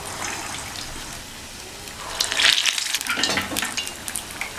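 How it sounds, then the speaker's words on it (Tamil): Vada balls sizzling and frying in hot oil for a festival recipe, a steady crackling hiss that swells louder midway as more batter drops in, with no talking. "வடை எண்ணெயில் போட்டதுக்கப்புறம் தீயை குறைச்சி வச்சுக்கணும்."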